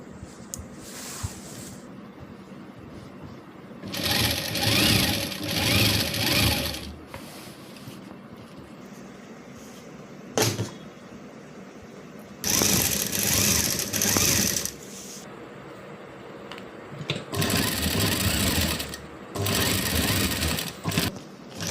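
A sewing machine stitches the finishing seam on a child's Rajputi lehenga in three loud bursts of steady whirring, separated by quieter pauses with faint handling sounds and a single sharp knock.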